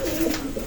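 A Hardy Kruger bloodline racing pigeon gives a brief soft coo, close and low over faint background noise.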